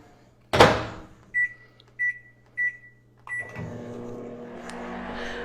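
A microwave oven melting butter in a microwave bowl: a door closes with a thump, three short beeps follow from the keypad, then the oven starts with a steady low hum.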